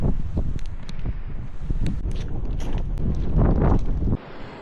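Strong storm wind gusts across an exposed incline at an abandoned ghost town, a constant loud roar buffeting the microphone with rustling and bursts, then dropping suddenly near the end.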